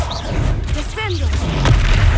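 The Descendo slam spell in the Hogwarts Legacy video game, a heavy booming thud as it lands, close and loud, with a voice calling out just before it amid combat noise.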